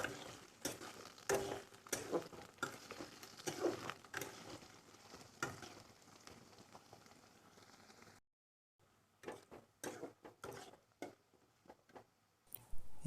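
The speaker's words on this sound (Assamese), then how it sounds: "পিঁয়াজখিনি গল্ডেন ব্ৰাউন হোৱালৈ অলপ লৰাই থাকিম। গেছটো ল' ফ্লেমত দি দিলে হ'ল।" Onions stirred and fried in a pan over a low gas flame, giving a steady soft sizzle broken by repeated scraping strokes of a spoon, with a brief pause before the stirring resumes.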